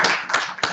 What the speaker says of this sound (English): and a round of applause for the panel